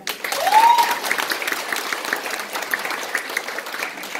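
Steady applause from a crowd fills the whole stretch, a dense, even patter of clapping with a brief tonal squeak near the start.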